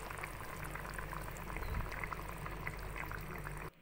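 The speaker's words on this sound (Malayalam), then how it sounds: "ഇപ്പോൾ ഇവിടെ കറി നന്നായി തിളച്ച് വന്നിട്ടുണ്ട്." Chicken curry with curry leaves boiling steadily in a pot, a continuous close bubbling simmer that holds at an even level before cutting off abruptly near the end.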